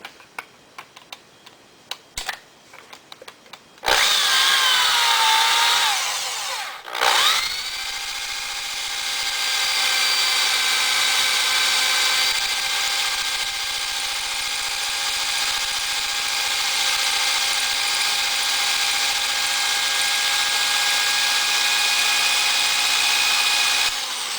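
A metal lathe cuts a part held on a mandrel: a sharp tick and clatter, then a loud steady whining cut with a tonal ring that runs on for twenty seconds.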